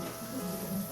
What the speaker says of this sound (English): this is the one that is already frying